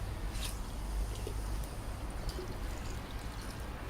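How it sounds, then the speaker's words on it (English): Water pours steadily into a filter housing for a nitrate remover resin setup, a quiet continuous stream and trickle with no talking. "And then you just fill it up with the water"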